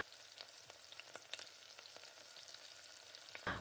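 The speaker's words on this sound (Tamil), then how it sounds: "வெங்காயம் நல்லா வதக்கிறதுக்கு ஒரு 2 நிமிஷம் 3 நிமிஷம் ஆகும்" Onions sauté in a pan for a mutton curry, giving a quiet continuous sizzle and crackle with scattered pops and occasional stirring scrapes, close and low in level with no talk.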